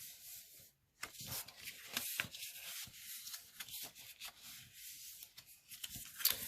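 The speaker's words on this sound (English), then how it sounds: "We want to fold on all of these score lines." Paper card stock being folded and creased along score lines for a handmade tag kit: soft close rubbing and scraping strokes in short bursts, quiet and without talk.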